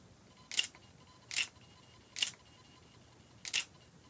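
Four short mechanical whirring bursts from a Yongnuo 42.5mm F1.7 Micro Four Thirds lens hunting in continuous autofocus mode, spaced about a second apart, close and clear against a quiet hiss.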